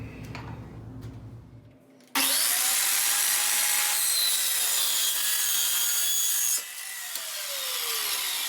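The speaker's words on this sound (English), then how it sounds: "So I'm going to cut some sections out to make cross bracing" Saw cutting sections of material for cross bracing in a welding shop: after a quieter start with low rumble, a loud, dense cutting roar begins abruptly and holds steadily, dropping slightly in level near the end as the cut continues.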